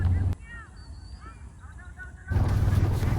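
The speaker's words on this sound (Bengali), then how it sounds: "এই ছয় মাস হাঁসেরা হাওরে চড়ে বেড়ায়" A flock of farmed ducks roaming the Tanguar Haor wetland in Bangladesh gives a run of overlapping quacking calls at moderate distance, set between louder bursts of broad, rushing background noise at the start and end.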